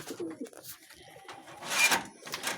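A pet pigeon kept for sale coos close by in soft, throaty bursts, with a fuller coo near the end, over a faint room background.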